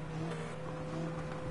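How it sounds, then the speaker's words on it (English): Flat-plane V8 car engine in Gran Turismo 7, a steady droning hum held at a constant pitch, close and moderately loud, with no talk over it. "It's like some flat plane V8."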